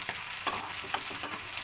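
Curry leaves hit hot oil with a brisk crackling sizzle, a few sharp pops sounding over a steady hiss of frying across this short moment.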